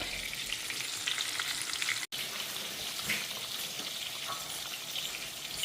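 Fish pieces, heads included, fry in hot oil with a steady, dense sizzle and crackle that runs continuously, broken only by a momentary dropout partway through; no voices.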